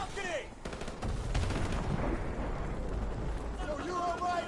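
Bursts of gunfire from the video game Modern Warfare Remastered on PS5, a sharp shot followed by rapid rattling volleys and booming blasts, moderately loud amid game effects.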